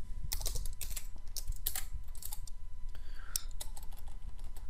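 Someone types on a computer keyboard in quick, uneven bursts of close, crisp key clicks over a steady low background hum.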